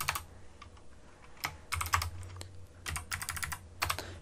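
Clacking keystrokes on a computer keyboard, with spacebar presses mixed in, come in an irregular burst of close taps with brief pauses, quiet and alone with no voices.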